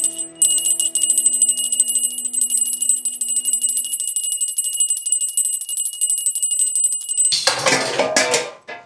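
A small prayer bell is rung continuously during home worship, its bright metallic tone repeating quickly for about seven seconds before breaking off into a short clatter.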